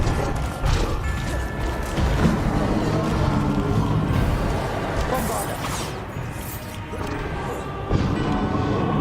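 Bombarda blasting spell explosions going off in Hogwarts Legacy during a spell-heavy fight, loud crashing impacts and debris over dense ongoing combat noise, with a voice talking throughout.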